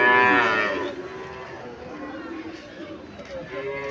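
A calf mooing at a village cattle market, one loud drawn-out low moo up close at the start, then a quieter murmur of people talking and market noise.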